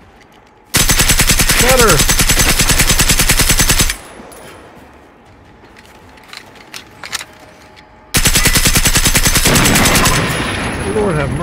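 Automatic gunfire in the Generation Zero video game: two long, loud sustained bursts of rapid shots separated by a quieter stretch with scattered clicks and faint voices, with a brief spoken word over the firing.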